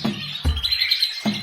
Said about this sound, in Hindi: चिड़ियों की आवाज हर तरफ थी।